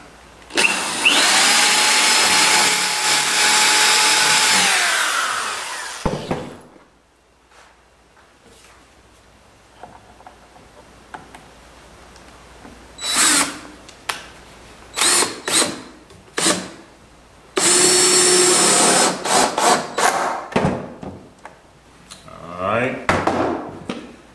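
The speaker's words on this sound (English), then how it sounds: "So I'm going to drill this now." A power drill whirs in repeated bursts, one long run at the start and shorter revs later, driving screws into the wooden chine of a skiff with quiet gaps between.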